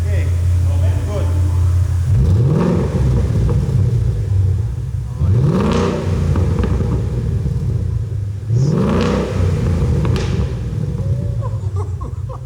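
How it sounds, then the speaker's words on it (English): A 2013 Ford Mustang with a Valvetronic exhaust revs three times in quick succession, each blip a loud, deep rising roar over a steady rumbling idle, with voices talking nearby. "We installed the Valvetronic exhaust last video, and now I want to let you guys be able to hear it in like a real world environment"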